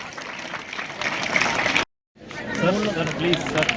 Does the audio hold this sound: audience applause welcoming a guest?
yes